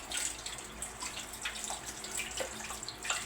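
Husked sweet corn is rinsed under a running faucet, producing a continuous splashing stream with scattered drips and small surges, close and moderately quiet, with no talking.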